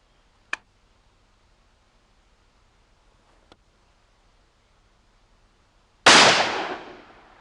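A shotgun firing 76 mm shells goes off with a single loud, sharp blast near the end, trailing into a fading roar, preceded by a couple of faint clicks in an otherwise quiet setting.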